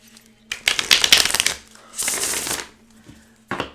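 Tarot cards shuffled and drawn up close, two riffling bursts with crisp flutter and a sliding rush, then a short snap of cards at the end, with quiet gaps between.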